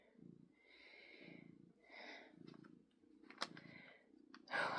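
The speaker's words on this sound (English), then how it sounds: "My cat is next to me, purring." A cat purrs close by, each breath producing a rhythmic, rumbling cycle repeated several times, with a few snuffles and a louder rustle at the end.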